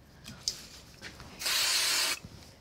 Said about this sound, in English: I think I'll just use a bit of spray glue